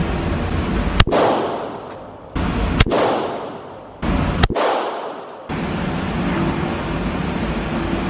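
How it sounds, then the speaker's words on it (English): Three loud gunshots ring out at an indoor shooting range from about 20 feet, spaced roughly two seconds apart, each with a sharp crack and a long echoing decay, followed by steady background noise. "We're going 20 feet away, 3 shots."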